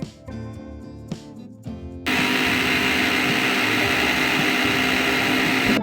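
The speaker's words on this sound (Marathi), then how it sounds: "लसूण जिरं आल्याचा तुकडा लाल मिरची आणि मीठ असं वाटण आता आपण घेतलेलं आहे ते आता मिक्सरमधून वाटून घेऊया" A mixer grinder blending garlic, cumin, a piece of ginger, red chilli and salt into a paste kicks on abruptly after a quieter couple of seconds, then runs as a loud, steady, close whirring roar to the end.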